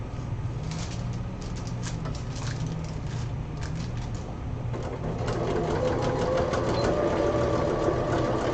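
A sewing machine stitches zipper seams on cosplay fabric with a fast, steady mechanical whir and chatter that runs continuously up close, growing slightly louder and brighter partway through.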